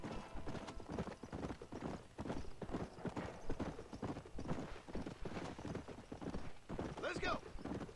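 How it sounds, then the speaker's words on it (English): Galloping horse hooves in Red Dead Redemption pound in a fast, continuous rhythm, close and fairly loud, with game ambience around them. "right now I'm just riding a horse"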